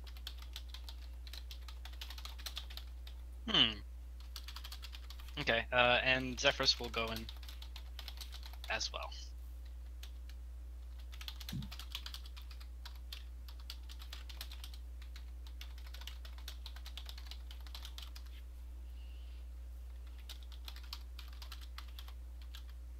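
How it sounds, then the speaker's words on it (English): Computer keyboard typing during a tabletop Dungeons & Dragons session, a faint steady patter of keystrokes running through most of the stretch beneath a brief spoken remark and a few other voices. "I'll finish that typing in a minute"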